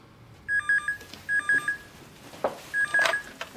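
A vintage landline telephone rings in repeated electronic bursts, three short trilling rings spaced about a second apart and heard alone.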